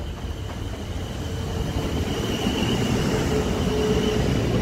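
A Class 450 electric passenger train rumbles steadily into Guildford station, a broad rolling roar growing slowly louder, with a faint high whine of wheels on the rails.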